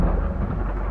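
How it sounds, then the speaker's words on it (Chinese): Heavy thunder rumbles through a downpour during a violent storm, a dense continuous low roar with rain hiss on top, loud and close, no voices. "案发前后，天降暴雨，电闪雷鸣"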